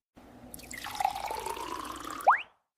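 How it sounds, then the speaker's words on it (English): Juice poured into a glass: a steady liquid stream for about two seconds, ending in a brief rising gurgle as the glass fills, then stopping. "I pour some juice."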